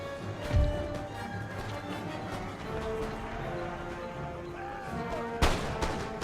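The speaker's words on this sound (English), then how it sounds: "taking some more shots at them" Line infantry musket fire in Empire Total War, a few scattered cracks with one strong shot near the start and another toward the end, over a steady bed of battle music and ambient noise.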